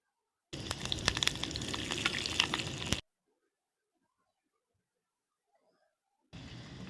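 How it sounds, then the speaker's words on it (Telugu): Hot oil sizzles loudly as garlic, dried red chillies, curry leaves and cumin go into the pan for a few seconds, then silence, and the sizzling briefly returns at the end. "తాలింపు వేస్తున్నానండి వెల్లుల్లిపాయలు ఎండుమిర్చి కరివేపాకు జీలకర్ర"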